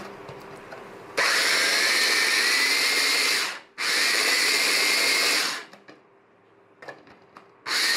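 A blender whirs loudly purée for a Dukan diet meal in two long bursts separated by a brief pause, then stops, leaving faint kitchen clatter before a third burst starts.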